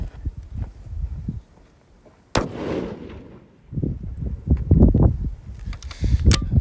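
A .300 Win Mag rifle fires a single loud, sharp shot, followed by a rolling outdoor echo and then handling noise nearby.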